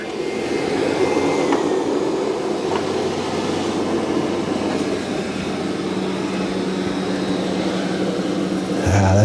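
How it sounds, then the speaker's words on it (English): Roborock Qrevo MaxV robot vacuum running on carpet with its mop pads lifted, giving a steady, fairly loud motor whir and brushing rumble that holds evenly throughout, with a brief clunk at the very end. "vacuum the carpet."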